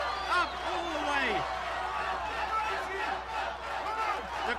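A strongman athlete named Olofsson yells loud encouragement over a roaring crowd at a 1997 strongman contest, his strained shouts rising and falling above steady background cheering.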